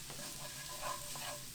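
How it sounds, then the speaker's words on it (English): Oil sizzles and crackles softly as spinach wilts in a pan, with a steady hiss, low and close, with no talking. "So we're letting our spinach wilt down a little bit."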